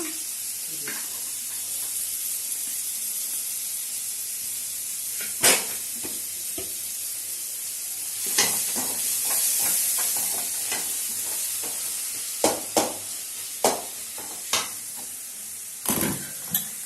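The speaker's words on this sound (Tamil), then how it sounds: "வெங்காயம் தக்காளி எல்லாம் பொன்னிறமாக வதங்கிடுச்சு" Onions and tomatoes sautéing in a pan for a Tamil oil-brinjal curry, a steady close sizzle throughout with intermittent spoon scrapes and clinks against the pan, no talk.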